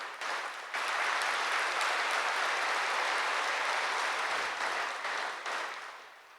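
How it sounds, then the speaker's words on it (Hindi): An audience claps together in a large spiritual gathering hall, a dense, sustained burst of applause that swells quickly after a brief pause, holds steady and loud, then thins slightly toward the end with no voices over it. "ताली तो बजाइए"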